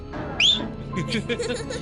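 A person gives one short, sharp, rising whistle at close range, followed by soft voices and light chuckling.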